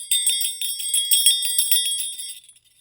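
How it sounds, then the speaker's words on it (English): A small sleigh bell is shaken in a rapid, bright jingling that rings close and clear for about two seconds before fading into silence. "I shook the bell. It made the most beautiful sound my sister and I had ever heard."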